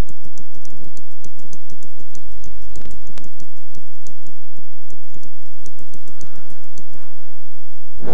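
Rapid, irregular keystrokes on a computer keyboard enter data into an MS Excel 2007 spreadsheet. The clicks are loud and close, with no talking.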